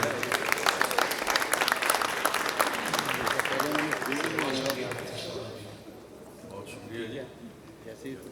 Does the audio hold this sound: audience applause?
yes